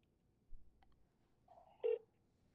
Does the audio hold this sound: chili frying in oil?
no